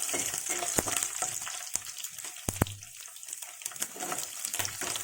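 Dried red chilies and garlic frying in hot oil for turkey berry chutney, a steady close sizzle with crackling pops and occasional stirring clinks throughout, no voices.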